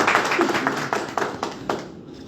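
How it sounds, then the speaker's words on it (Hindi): Audience clapping at a business company gathering, a steady patter of many hands that thins out and fades toward the end, fairly close and without voices over it. "मैं चाहता हूं उनके लिए भी जोरदार तालियों से उनका सम्मान करें"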